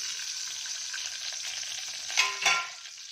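Mustard seeds, chana dal, urad dal, cumin and fenugreek frying in hot oil, a close, steady crackling sizzle, with two sharper spluttering bursts near the end and no voices.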